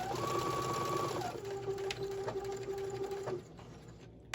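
Sewing machine stitching a small fabric Santa sack, a close steady mechanical whir that shifts pitch as the speed changes, then slows and stops, heard alone.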